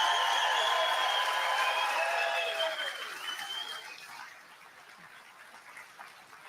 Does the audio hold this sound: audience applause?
yes